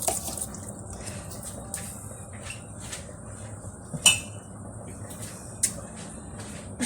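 Water is added to couscous in a kitchen, a continuous pouring trickle with a few sharp clinks of a pot or utensil.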